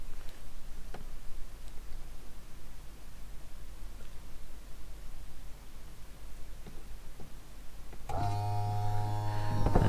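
An electric pop roof on a VW campervan starts up near the end, a sudden steady motor whine and hum following several seconds of quiet ticking and background hiss.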